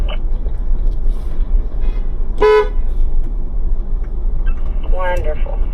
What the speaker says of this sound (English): Let me hear a horn honk.